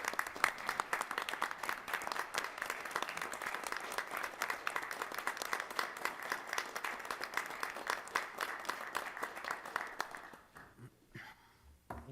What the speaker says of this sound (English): performance of this caliber certainly deserves a round of applause.